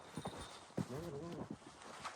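A horse walking outdoors by a river, with a few distinct close hoof clip-clops in an uneven rhythm against quiet background noise.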